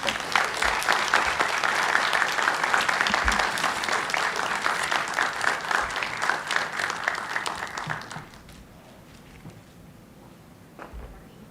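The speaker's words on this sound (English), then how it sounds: "Let's give another warm welcome, a round of applause for Mr. Green." Conference audience applauds in a dense, sustained burst of clapping that fades after about eight seconds, leaving a few scattered claps.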